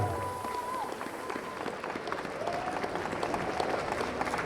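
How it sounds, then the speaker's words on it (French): Applause and crowd noise greet three performers arriving on stage at a live game show, a dense, steady wash of clapping mixed with a faint tone and some background voices. "Un tonnerre d'applaudissements"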